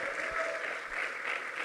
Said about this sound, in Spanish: Démosle fuerte las palmas al bendito Señor